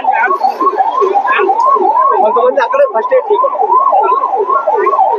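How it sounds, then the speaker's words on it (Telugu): An ambulance siren wails loud and close at an emergency scene, its rapid rising and falling cycles repeating steadily without a break. "వీళ్ళు అంబులెన్స్ లో చెక్ చేసి దగ్గరలో ఉన్నటువంటి హాస్పిటల్ ఏదైతే ఉందో హాస్పిటల్ కి తీసుకెళ్ళడానికి తరలించడానికి వాళ్ళు ప్రయత్నం చేస్తున్నారు"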